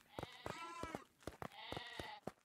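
Sheep bleat in Craftopia, a video game: two drawn-out, wavering bleats at close range with short clicking game sounds around them and no speech.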